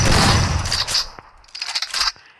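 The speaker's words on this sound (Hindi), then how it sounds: "गन को रिलोड कर रहा है काफ़ी अच्छे।" Quick mechanical clacks and metallic clicks of an M1887 shotgun reload in Free Fire, a dense burst of action at first, then a short pause and a second flurry of crisp, loud clicks.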